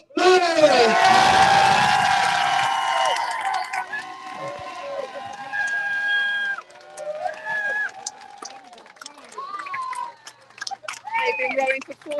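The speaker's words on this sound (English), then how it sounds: "Once again, a big applause for Ace of Blades!" A lively crowd at a rowing race finish cheers and whoops loudly at first, the roar fading into scattered shouts and calls over the following seconds.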